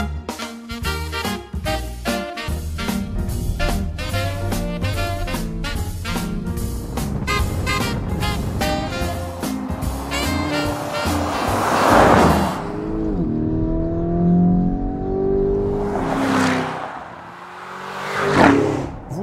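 A Lamborghini Urus SUV on winter tyres cruises at high speed on a motorway, steady loud engine and road roar with rising and falling tones as it accelerates, wind rushing throughout.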